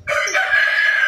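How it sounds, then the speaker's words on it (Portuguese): A rooster crows once, loud and near, its long drawn-out call filling the whole moment with no voices. "É a galinha, porque o nome da galinha é Maritando, e o galo é Sabiá"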